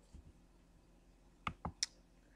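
A computer mouse clicks on an online volcano map, giving three or four sharp, faint clicks close together in a quiet room.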